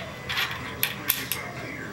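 A bicycle bottom bracket cone washer is fitted on the sprocket side, giving a few brief, close metallic clinks and ticks over a quiet background.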